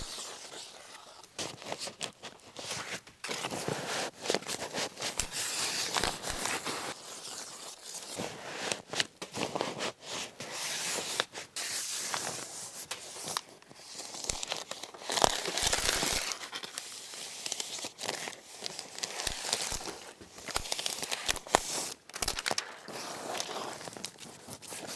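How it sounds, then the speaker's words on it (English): Tape being pressed and smoothed along a Majrex air barrier membrane joint on a house wall, giving continuous crinkling, rustling and scraping up close that runs the whole stretch without any talk. "make a nice clean joint with the tape"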